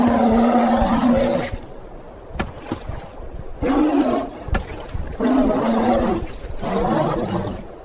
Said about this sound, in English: In the quiet of the tundra, the bear's roars and the rattle of the storm are